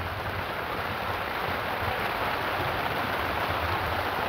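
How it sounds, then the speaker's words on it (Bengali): Rain falls steadily on a village with concrete roads, giving an even, dense hiss that stays constant and fairly soft throughout, without voices. "বৃষ্টিটা কি সুন্দর হচ্ছে একদম।"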